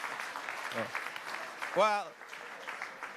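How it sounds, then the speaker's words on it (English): Town hall audience applause, a moderate spread of clapping under a man's brief spoken remark. "Give him a round of applause."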